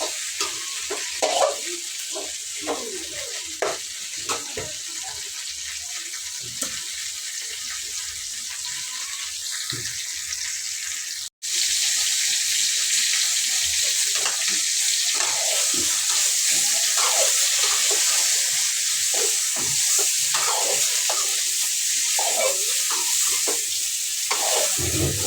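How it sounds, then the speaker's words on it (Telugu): Eggplant for stuffed gutti vankaya curry frying in oil in a pan: loud, continuous crackling sizzle with occasional stirring scrapes, steady throughout apart from a momentary dropout partway. "నూనె వేసేసి ఒక 5 నిమిషాలు బాగా వేయించుకుంటా."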